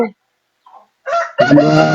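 Tiger breed chickens at a poultry farm, with a brief cluck and a faint call followed by a loud, close rooster crow that starts abruptly and holds strongly to the end.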